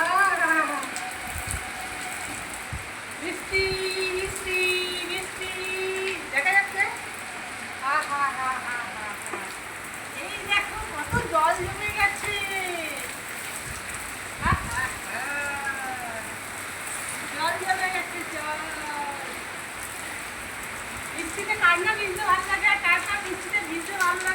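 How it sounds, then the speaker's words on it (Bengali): Rain pattering steadily on surfaces outdoors, a constant hiss beneath someone speaking throughout, with a few brief knocks. "বিদ্যুৎ চমকায়নি বলেই বৃষ্টিটা হ্যাঁ, হচ্ছে"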